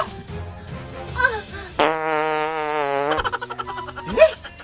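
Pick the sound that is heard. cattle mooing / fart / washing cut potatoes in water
fart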